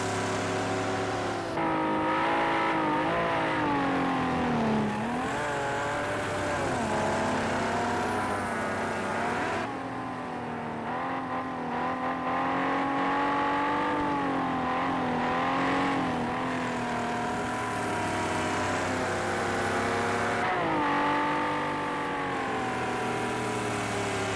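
Classic GT race cars, including a Chevrolet Camaro, Porsche and Ferrari, racing in Project Cars 2 on Xbox: loud continuous engine roar with rising and falling revs through gear changes, several cars blending together without pause.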